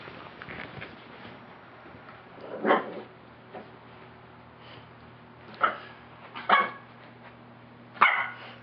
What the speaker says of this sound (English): Don't you bark.